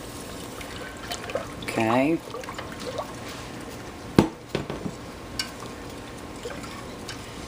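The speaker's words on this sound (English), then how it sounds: "once you've got it all hot and boiling, you want to pour in your sugar. And stir it while you're doing it." Sugar is poured into a pot of hot, boiling liquid for chocolate mint jelly and stirred, giving a brief rush and trickle followed by scattered spoon scrapes and clinks against the pan, with a short spoken word.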